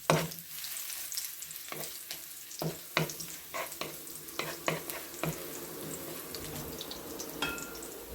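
Squid, egg and onion are stir-fried in a hot pan. Steady sizzling runs under repeated close scraping and stirring strokes throughout, with no voices.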